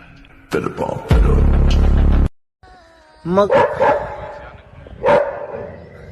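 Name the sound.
dogs barking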